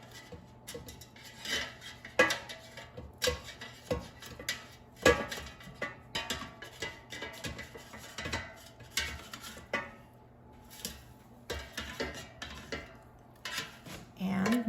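Swai fish being flipped in an air fryer basket, heard as a string of light clinks and taps of a utensil against metal, with irregular soft knocks across the whole stretch and no speech.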